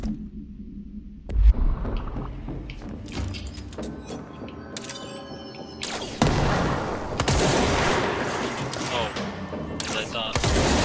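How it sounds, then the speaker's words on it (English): A railgun-like weapon fires in the video game Control, delivering a heavy charged blast with a sharp attack and rising whine, then a louder sustained burst of energy and rumble, mixed with other game effects. "as I thought, it's a kind of like railgun weapon"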